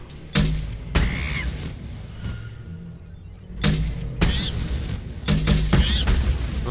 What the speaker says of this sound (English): I'm just shooting them down with big guns